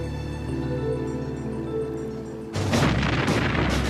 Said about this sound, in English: The battle began amidst a blaze of cannon fire.